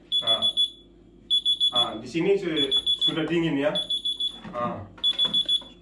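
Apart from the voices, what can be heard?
two-door refrigerator-freezer alarm beeping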